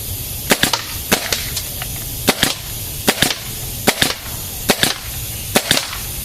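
A nail gun fired at a wooden board, sharp close cracks in quick pairs repeating at a steady pace about every second.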